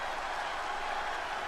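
A crowd in a Texas wrestling arena in WWE 2K20 fills the air with a dense, steady wash of applause and cheering, unbroken and fairly loud throughout.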